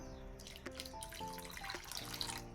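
A thin stream of water trickles and drips into a metal vessel of spinach and gram flour, with faint ringing tones from the container, close and fairly quiet.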